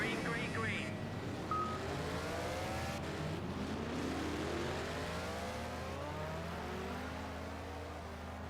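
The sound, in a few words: race cars starting off the grid at Silverstone, Project CARS video game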